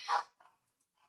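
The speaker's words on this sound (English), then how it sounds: "oh, sorry for the dog" One short, muffled dog bark, then a fainter second yelp, somewhat distant and quiet, heard alone without talk.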